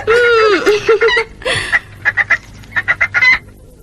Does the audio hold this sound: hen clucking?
yes